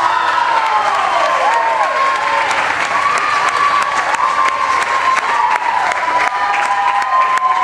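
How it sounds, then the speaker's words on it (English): A crowd at a country singing contest breaks into loud applause with cheering and whistles as a third-place finisher is announced, sustained clapping close and full throughout while a few voices shout. "In third place, please give a nice hand to Mr. Dylan Hayden."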